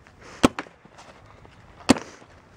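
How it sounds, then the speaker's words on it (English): Paintball marker fired from behind cover, two sharp cracks about a second and a half apart, each followed by a fainter echo-like pop, fairly close with no talking. "You're coming out feathering your shots."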